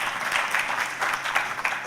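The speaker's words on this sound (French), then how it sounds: "je vous invite à applaudir Anne-Sophie Novelle" An audience applauds a speaker at a French conference, a steady wash of many hands clapping at moderate distance with no talk over it.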